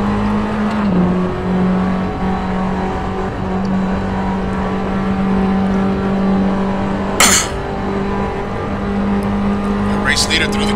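Race car engine roaring around a racetrack during an inter-league fun race, a steady droning tone with a shifting pitch, heard under continuous commentary with brief sharp bursts near the end.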